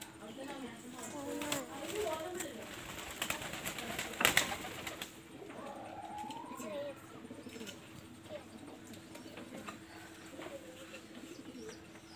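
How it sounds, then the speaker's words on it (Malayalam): Pet pigeons coo softly at home in the evening in Malappuram, their low murmuring calls mixed with faint chirps beneath someone talking nearby, and a brief clatter near the middle. "അവർക്ക് പ്രാവിന് ഭയങ്കര ഇഷ്ടമാണ്."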